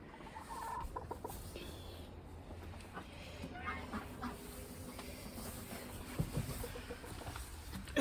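Ducks and geese call out in alarm, a steady chorus of quacks, clucks and honks that carries on throughout, with one louder burst near the end.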